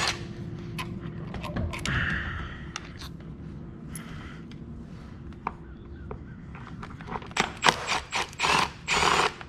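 A ratchet works on the 12 mm fuel vapor line of a Suzuki outboard, giving scattered sharp clicks and short ratcheting bursts over a low mechanical hum, growing louder and busier toward the end.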